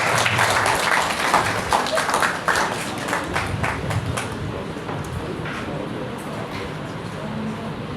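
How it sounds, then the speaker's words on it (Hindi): Audience at a Lok Adalat ceremony in the Ashoknagar district court clapping to welcome an honoree, dense close applause that is loudest at first and then thins into scattered claps as the room settles. "हमारा सभी से मेरा अनुरोध है कि ताली बजाकर उनका स्वागत करें"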